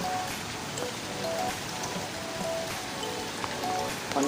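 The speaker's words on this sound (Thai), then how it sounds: "เล่นน้ำกลางสายฝน" Heavy rain falling around a beach hotel in Pattaya, heard as a steady, dense hiss of drops on surfaces that continues unbroken, with no voices.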